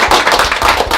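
Audience applause at a government funding announcement: a loud, close, continuous patter of many hands clapping throughout the brief moment, with no talking.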